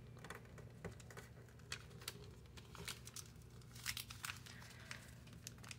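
Paper folded by hand for an origami MiG-25 jet, quiet and close with crisp crinkling and pressing taps scattered throughout, a busier burst of creasing near 4 s, no voices.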